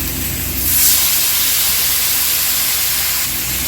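Water poured into a very hot kadai just used for frying fish, with Kashmiri chilli powder, green chillies and salt: a loud, steady steam hiss that swells near the start and holds, no voices.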